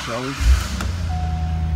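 A 2004 Chevrolet Corvette convertible with automatic transmission cranks and catches after a brief spoken remark, settling into a steady, close idle.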